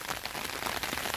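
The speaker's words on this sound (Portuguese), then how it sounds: "gravando aqui ao vivo agora a chuva" Rain falling steadily in a garden in northeastern Brazil, a faint continuous hiss of drops with no voices.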